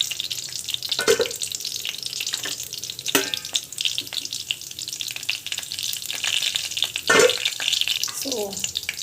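Mustard seeds frying in hot oil for a mango dish: a steady crackling sizzle fills the clip, broken by a few sharp clinks and stirring scrapes, with no talk.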